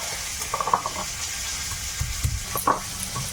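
Oil sizzles and spatters steadily in a pan as eggplant fries, with a few soft clinks and light knocks of cooking utensils.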